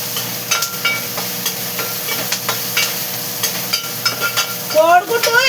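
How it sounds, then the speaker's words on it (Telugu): Vegetables frying in a little oil, a steady close sizzle with scattered spatters and clinks of stirring, and faint background noise toward the end. "అందుకనే ఇలాగా వేపుతున్నా, కొంచెం కొంచెం ఆయిల్ వేసి వేపుతున్నాను అన్నమాట."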